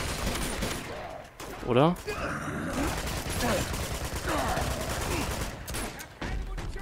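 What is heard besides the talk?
enemies shooting at the player in the video game Uncharted 2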